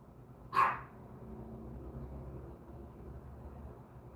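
A single sharp dog bark rings out near the start, fairly close and loud, then fades into a low steady room hum with no further barks.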